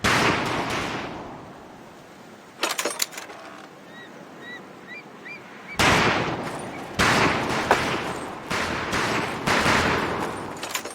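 Bursts of heavy-weapon gunfire ring out at a shooting range in the Medal of Honor Pacific Assault video game, loud rapid volleys separated by quieter gaps with faint background chatter.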